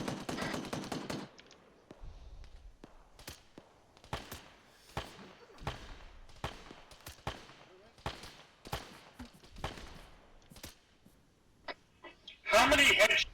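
Video-game gunfire during a counter-terrorism shootout in Colombia: scattered sharp single shots and short bursts spaced across the clip, with a louder dense burst near the end and a voice talking between shots.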